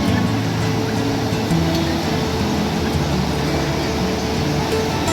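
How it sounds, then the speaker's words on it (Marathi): Ocean waves on Gokarna beach in Karnataka at sunset, a steady broadband rush of surf that fills the whole clip without breaks, loud and continuous, with no voices. "समुद्राच्या लाटांचा आवाज"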